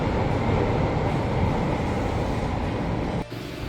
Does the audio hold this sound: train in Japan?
yes